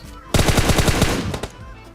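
Gunfire in a battle royale video game, a loud close burst of rapid automatic shots in a steady rhythm, followed by a couple of separate shots, with no talking.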